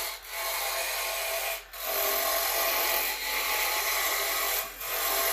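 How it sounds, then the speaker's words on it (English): Wood lathe spinning a pen blank at a raised speed, giving a steady broadband rubbing, rasping whir with a few brief dips as the tool lifts off, close and fairly loud with no voices. "you might have noticed that I turned the lathe up a little bit"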